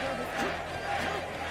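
Crowd noise from spectators at a fighting game tournament finals night, a sustained roar of many voices with rising shouts and cheers, loud and continuous throughout.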